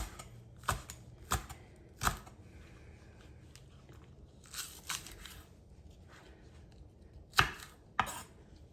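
A knife chops green onions on a cutting board, with sharp, distinct knocks arriving singly or in quick pairs at irregular intervals, near and crisp against a quiet room.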